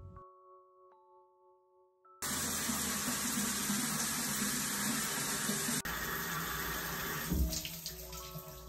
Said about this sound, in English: I'm gonna have a shower, I think.